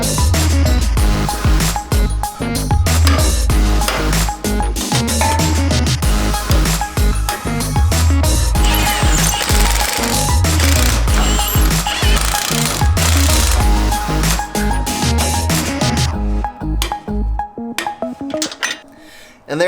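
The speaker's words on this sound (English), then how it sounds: "we're gonna go ahead and torque on those bolts to 125 foot-pounds of torque" Loud, rapid hammering from a tool driving track bar bolts on a Jeep JL Wrangler, running almost continuously for most of the stretch before stopping near the end.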